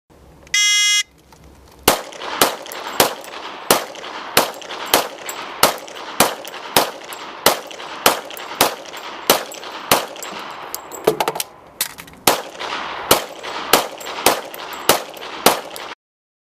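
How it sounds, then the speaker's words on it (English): Semi-automatic pistols fire in a steady, evenly spaced series of sharp, loud shots at a sheriff's magazine-size demonstration, preceded by a brief electronic start tone and a short pause partway through. "Our first comparison will be with semi-automatic pistols, and our demonstrators will be firing 2 15-round"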